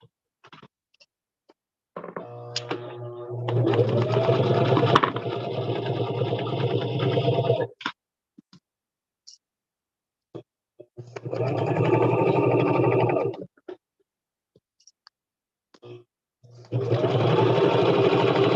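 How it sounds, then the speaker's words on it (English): A sewing machine top stitches a vinyl project bag in three separate runs of steady, loud, fast stitching, with silent pauses in between. "So I'm just going back and top stitching here."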